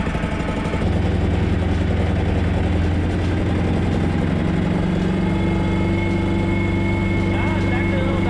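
A Terramite T5C engine idles steadily while warming up, its low rumble holding a constant pitch throughout, loud and close with no other sounds over it.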